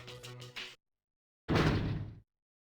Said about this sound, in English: All I did was unlock a door.